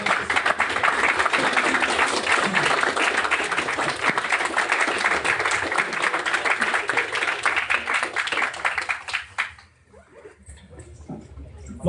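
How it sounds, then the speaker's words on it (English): Sustained applause from an audience at a Python meetup after a lightning talk, dense and fairly loud for about nine seconds before cutting off abruptly, followed by quiet room noise. "Most applause I've ever gotten for a segfault."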